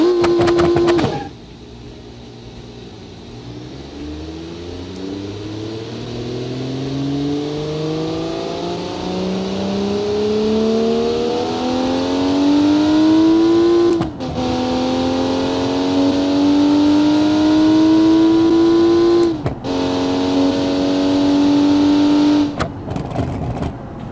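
Jupiter Turbo car engine from the racing sim Automation, starting with a brief idle then accelerating hard with rising whine through gears, punctuated by two sharp shift breaks, loud and close without talking.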